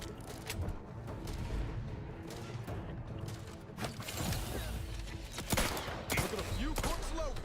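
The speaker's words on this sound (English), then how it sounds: "Oh, I am getting hit by a sniper." Sniper gunfire striking the player in a video game, heard as a string of sharp, loud shots and impacts at irregular intervals over steady in-game noise.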